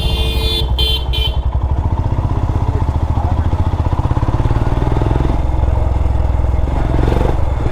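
A Royal Enfield Himalayan motorcycle rides a potholed road near Kasipatnam, Vizag. The engine thumps in a close, steady rhythm throughout, with a brief horn-like tone at the start and light rattling over the rough surface.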